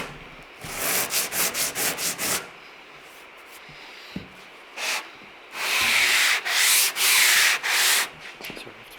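Sandpaper of 180 grit rasps over a Talbot Sunbeam Lotus car body in close, rhythmic strokes, a quick run of back-and-forth scrubs, a pause, then longer sustained passes.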